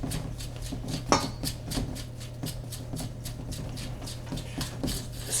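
Butter being stirred with a pinch of salt in a bowl for a butter tart, giving a run of soft, rhythmic scraping and tapping strokes at close range, one of them louder than the rest.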